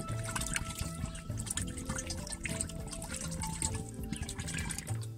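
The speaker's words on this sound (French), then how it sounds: "Je vais aller la remplir d'eau." Water running from a tap into a plastic bottle, a steady close splashing and trickling fill that continues throughout over a faint background hum.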